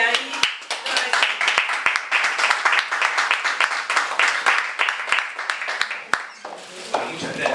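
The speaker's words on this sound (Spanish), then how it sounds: "le vamos a dar un fuerte aplauso y ahí lo recibimos" A room of people clapping for a guest speaker at a vitamin C training talk, individual sharp hand claps audible within the applause, fairly close, easing off near the end as a voice begins.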